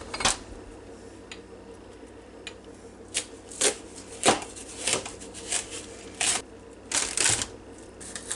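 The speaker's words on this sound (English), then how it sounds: "we're going to cut this little bitty melon," A knife cuts through half of a small watermelon for a fruit salad, giving repeated close chopping thuds and scraping slices at an irregular rhythm, heard without talk.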